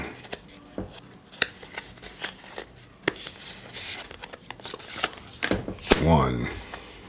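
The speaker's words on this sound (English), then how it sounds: "Enchantment Tarot. Selecting three cards here." Large, thick tarot cards from an Enchantment deck are drawn and handled up close, with crisp shuffling flicks, slides and taps scattered irregularly, building to a denser rustle near the end.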